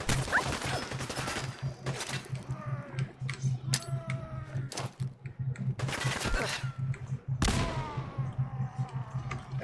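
Bursts of gunfire in Fallout 4 crackle through a firefight, sharp shots scattered irregularly with a couple of heavier crashing impacts, amid a steady low hum, moderately loud.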